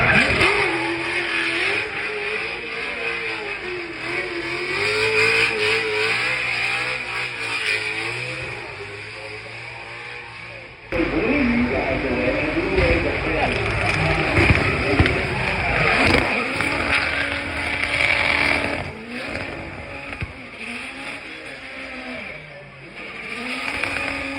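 A Wankel rotary-engined Volkswagen Scirocco drives up the hill climb at the Goodwood Festival of Speed, its engine revving and rising in pitch, loud and sustained, with a commentator talking over it throughout.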